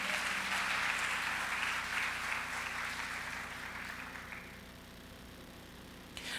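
Church congregation applauding during a family worship service, a broad steady wash of clapping that fills the room and then fades away over several seconds.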